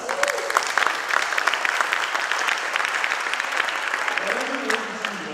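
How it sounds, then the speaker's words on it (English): An audience at a tech summit demo session claps, producing a steady wash of applause that lasts throughout without a break. "Give yourself a round of applause."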